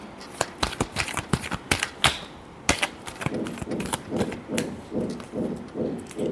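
A deck of tarot cards shuffled by hand: rapid crisp riffling clicks at first, then a steady rhythmic run of soft flapping taps as the cards are worked, close and clear.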